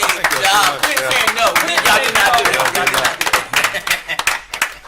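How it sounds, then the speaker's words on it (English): A city council meeting audience in Florence, South Carolina gives city staff a round of applause, dense clapping throughout that trails off near the end, with voices mixed in. "I want to give staff a round of applause."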